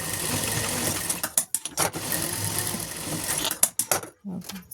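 Sewing machine double stitching fabric to lock a seam, rapid needle chatter in short runs broken by pauses, close and moderately loud, with a voice speaking briefly.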